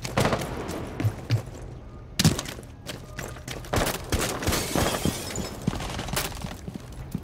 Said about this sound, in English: Are they shooting at Yuki?